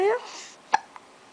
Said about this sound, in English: Yeah, you don't like the hiccups.